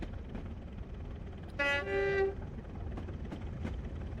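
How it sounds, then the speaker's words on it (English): A train horn in the Train Simulator game on the West Highland Line in Scotland sounds one clear tonal blast lasting under a second, moderately distant over a steady low rumble of track and engine noise. "Yes, that was a train."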